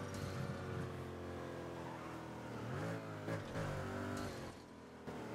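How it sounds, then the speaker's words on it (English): A car engine in the racing game Burnout Paradise, a steady mid-level drone that rises and dips in pitch as it revs, heard alone without talk. "I thought I heard another car engine that wasn't mine."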